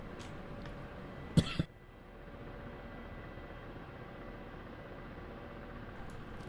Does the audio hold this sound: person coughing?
yes